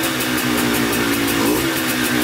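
A quad engine with a cheap rebuilt top end is being broken in. It drones loud and close, its throttle blipped in quick rhythmic pulses with no voices over it.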